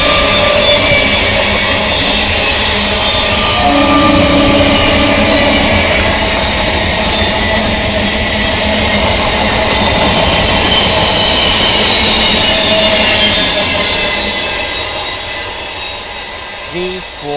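A Baruipur–Sealdah local train passes through Sonarpur railway station, a loud, steady roar of rolling wagons and wheels on rail that fades toward the end.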